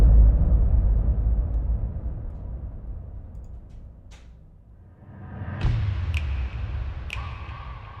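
Filtered impact hits drenched in Valhalla Shimmer reverb: a dark boom fading over several seconds, then a swelling thud followed by sharp, bright hits whose shimmering tails ring on.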